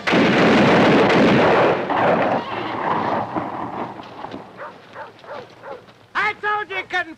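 A loud volley of rifle and cannon fire from a western movie battle booms at once and rolls away into echoing rumble, followed by someone shouting.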